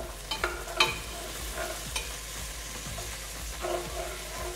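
Tomato bisque being stirred in a pot after flour is added, with a few scraping clinks of the spoon standing out against a soft, steady background hiss; no one speaks.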